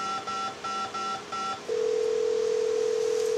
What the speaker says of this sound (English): They have to pick up the phone, just like we do, call the place in.